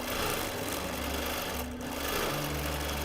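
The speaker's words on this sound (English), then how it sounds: "So I'm going to stitch around it and below it" Quilting machine stitching around a strip of lace on a pieced quilt, a continuous close mechanical hum and rapid needle rattle throughout with a brief dip midway, no voices.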